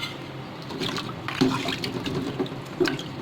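Water pouring into a cooking pot for mutton paaye makes a continuous splashing, gurgling flow with a few brief louder sloshes, moderately close and with no talking.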